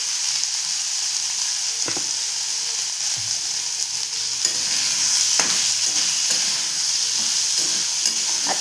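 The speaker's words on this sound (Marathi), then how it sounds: "आता अशीच परतवून घेऊया." Ivy gourd stir-fried in a pan over low gas, with a steady hiss of sizzling oil and occasional scraping strokes of a spatula, close and continuous with no speech.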